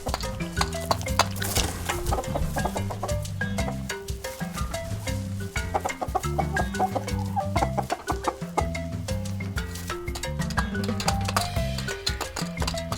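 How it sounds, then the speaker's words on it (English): Chicken clucking over a bouncy, rhythmic music track, the bird calls mixed into the music throughout. "Chicken."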